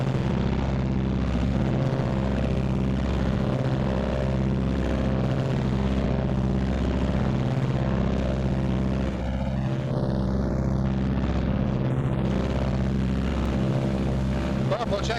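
Loud, steady engine drone with a deep rhythmic throb from the twin engines of a Martin B-26 Marauder run up together to about 1,800 RPM close by, holding constant throughout.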